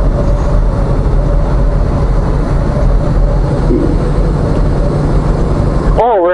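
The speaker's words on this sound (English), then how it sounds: "we're having an air show over here" Aircraft flying overhead at an air show make a loud, steady roar that fills the whole stretch, and a voice briefly breaks through near the end.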